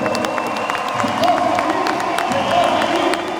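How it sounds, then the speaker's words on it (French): A crowd at a hockey game applauds and cheers, dense clapping mixed with shouts that holds steady for a few seconds. "Grosse main d'applaudissements, s'il vous plaît, pour Olivier Primo"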